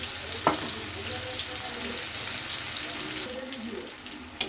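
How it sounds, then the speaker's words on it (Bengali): Sliced onions sizzling in hot oil in a pan while being stirred for an aloo begun ilish fish curry, a steady crackling fry with occasional scrapes and knocks of the spoon. "পেঁয়াজটা খুব ভালো করে নাড়িয়ে নিচ্ছি।"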